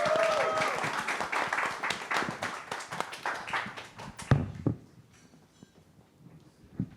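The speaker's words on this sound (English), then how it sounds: "Please give applause for Monique Suksmaningsih." An audience applauds a practice principal being introduced at an urban design talk in Singapore, dense clapping rising then thinning out into a few scattered claps and quiet room noise.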